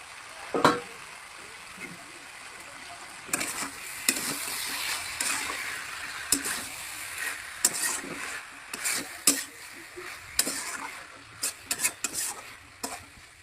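Chopped tomatoes hit hot spices (coriander and chili powder, ginger-garlic paste, turmeric, salt) in a pan, a crackling sizzle under repeated stirring scrapes and spoon taps against the pan, moderately quiet and close, no talking.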